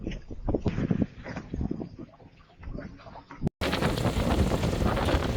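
Wind roars across the microphone aboard a Hans Christian sailboat under sail in about 30 knots. The rushing noise is loud and gusty, then turns into a steady, dense blast after a short dropout.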